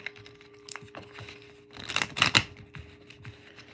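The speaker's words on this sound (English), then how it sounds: "Let me give this deck a little shuffle." A tarot card deck is shuffled by hand: scattered crisp card snaps and riffling clicks, building to a dense burst of rapid flicks midway before a few lighter taps close it out, near and without talk.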